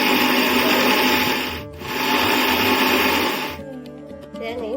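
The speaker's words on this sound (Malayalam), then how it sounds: "തേങ്ങയും പച്ചമുളകും കൂടി ചേർത്ത് നമ്മൾ മിക്സിയിൽ വെച്ച് നല്ലതുപോലെ അരച്ചെടുത്തിട്ടുണ്ട്" A kitchen mixie grinds grated coconut, green chillies and cumin into a paste, its loud steady whirring motor pausing briefly and then restarting before settling into a quieter, uneven churn as it winds down.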